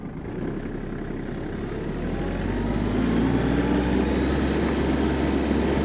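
A compact tractor, a Yanmar F-210 or Kubota T-220, runs at full throttle in a field. It gives a loud, steady engine drone that swells slightly and holds without pause.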